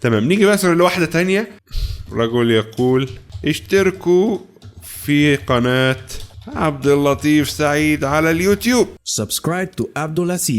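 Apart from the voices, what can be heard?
No distinct noise like a dog, phone or traffic.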